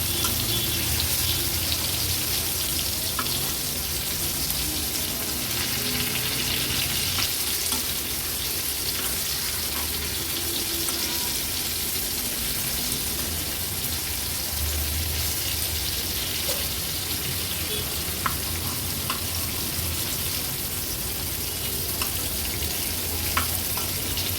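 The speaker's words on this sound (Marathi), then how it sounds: "अगदी दीड दोन मिनिटच झालेत मांदेली तळायला" Mandeli fish fry in hot oil in a pan with a steady, dense sizzle that holds evenly throughout, a faint crackle and occasional soft pops on top, with no talking.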